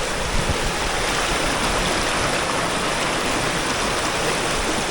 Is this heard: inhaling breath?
no